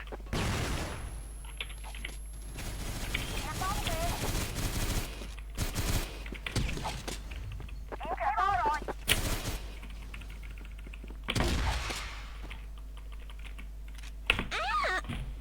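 A six-barrel minigun fires in a video game, dense rattling bursts broken by pauses and clicking keyboard typing, with people talking in between.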